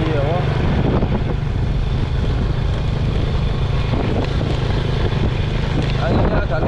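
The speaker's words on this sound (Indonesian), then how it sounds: "Anginnya agak lumayan besar di sini, dulur." Strong wind buffets a microphone at a mountain site near Semeru after an eruption, a steady low roar and rumble running through the whole stretch with no clear pauses.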